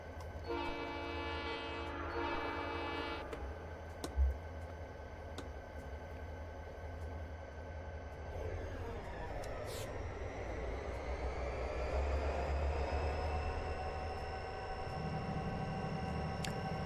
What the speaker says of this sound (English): watch this train depart